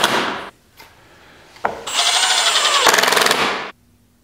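A power drill drives a screw into a wooden board in short whirring bursts, one brief spin and then a longer sustained run, close and loud with no talk.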